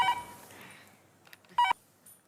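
A phone gives two short electronic ringing tones separated by a pause, crisp and close against an otherwise quiet room.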